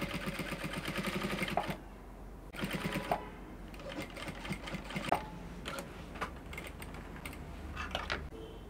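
A sewing machine stitches bias binding onto a corset, close and steady, with the motor's rapid chatter running in bursts separated by brief pauses and small clicks.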